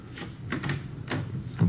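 Back door of a hotel being tried and opened in a radio drama, a few soft knocks and rattles spread over a second and a half, close and fairly quiet.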